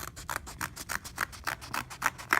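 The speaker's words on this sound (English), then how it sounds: "I'm going to take my scissors and I'm going to keep it closed, and I'm going to cut" Scissors cut through a stack of folded papers together along traced lines, making a steady run of about nine close, crisp snips, one after another with no talking.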